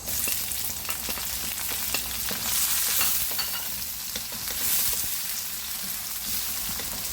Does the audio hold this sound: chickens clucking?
no